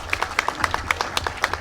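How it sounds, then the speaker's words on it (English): A small audience at a scout troop's 100th-year cabin celebration claps in a loose, uneven patter of distinct hand claps, close and moderately loud, with no talking over it. "Give him a round of applause as well."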